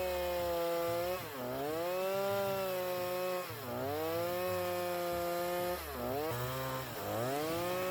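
Chainsaw with a long bar cuts through a thick block of mango wood, engine droning steadily and loudly, its pitch dipping three times as the chain bites.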